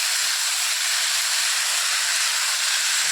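A steady, loud hiss rises from a hot pan of potato and onion curry as water hits it after chilli and turmeric, continuous and close with no speech.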